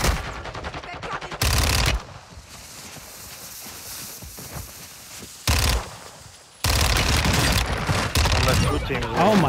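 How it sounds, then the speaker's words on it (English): Bursts of automatic gunfire come from the Warzone 2 shooter game, loud rattling volleys broken by quieter stretches of movement and game ambience, with players talking in between. "Gorb, if you could try and shoot him"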